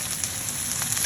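Silkworms frying in a hot pan, a close, dense sizzle with a few brighter crackles, brief and with no talk.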